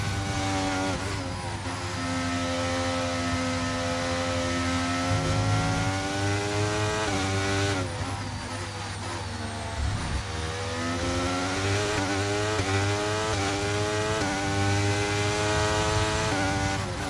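A Formula 1 car engine in the F1 23 racing game screams at high revs, rising and falling through gear changes in a continuous loud drone with no talk.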